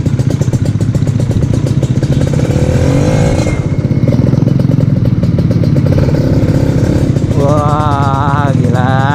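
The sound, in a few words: Kawasaki Ninja RR 2016 motorcycle engine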